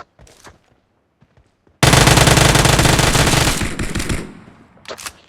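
An automatic gun fires in a video game. A dense, rapid burst erupts after near silence, rattles for about two seconds and fades, then a brief final shot follows.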